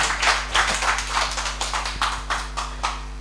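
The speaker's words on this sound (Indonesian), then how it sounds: "Ini tepuk tangannya dari berapa ribu peserta ini." Sparse, rhythmic clapping from a small virtual talk show audience welcoming a guest: steady, evenly spaced claps over a constant low electrical hum, with no talk.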